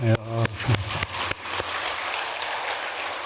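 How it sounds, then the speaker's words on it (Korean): Applause from the audience at a Buddhist dharma talk at Tongdosa temple, a dense patter of clapping after a few loud opening thumps with a voice at the very start. "박수 한번 쳐야죠, 이제 여기서."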